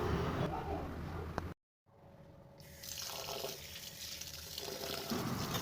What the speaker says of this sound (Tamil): நல்லா தண்ணி விட்டு வாஷ் பண்ணி எடுத்துக்கலாம்